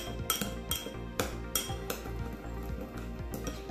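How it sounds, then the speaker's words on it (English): A spoon stirs cinnamon and sugar together in a small bowl, giving repeated light clinks and scrapes against the bowl in a steady rhythm, close and clear, with no voices. "grab a small bowl and put in some cinnamon and sugar. Make sure that there's far more sugar than there is cinnamon because the cinnamon is far stronger. Go ahead and stir it together."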